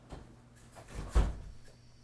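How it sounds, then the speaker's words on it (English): An indoor door is opened to let a cat in, giving a single soft thump and rattle near the middle over quiet room tone, with no talking. "would you open the door? I think maybe our cat would like to come"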